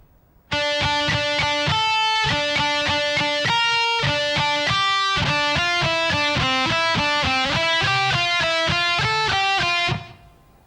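A distorted electric guitar plays a fast melodic lead lick, bright sustained notes stepping rapidly through a descending and climbing pattern, loud and continuous for about ten seconds before cutting off.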